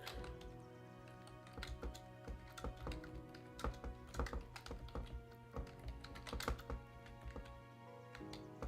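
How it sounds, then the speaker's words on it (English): Someone types at a computer keyboard in an irregular flurry of clicky keystrokes. The taps come in uneven bursts over a steady background hum, with no talking. "Let me type it out."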